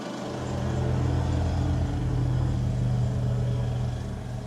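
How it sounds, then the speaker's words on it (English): Four-wheelers ridden down a neighborhood street make a steady low engine drone that swells and holds, a continuous rumble heard alone without talk. "Dang neighborhood kids riding 4-wheelers down the street"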